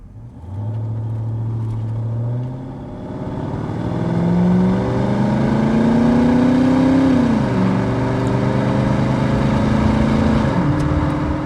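A 1989 Ford Mustang 5.0 V8 convertible with automatic transmission and original exhaust idles with a deep, throaty rumble, then revs up, climbing in pitch before dropping back and revving again.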